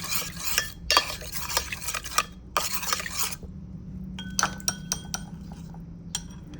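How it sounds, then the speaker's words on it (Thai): A spoon stirs leftover red pork soup stock and a little sugar into a sauce, giving bursts of scraping and clinking against a glass or ceramic bowl, close up and with short pauses in between. "นี่ค่ะคนให้เข้ากัน"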